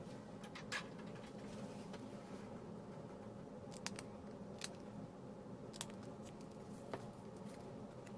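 Scissors snipping forked ends into a paper ribbon during a Stampin' Up! paper craft project, a few quiet, sharp cuts spaced out over soft room noise.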